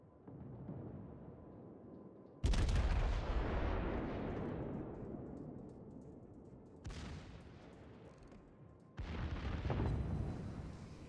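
Yamato battleship secondary guns firing in World of Warships: three heavy, booming volleys, each a sharp blast trailing into a long rolling rumble, loud and close with no talking.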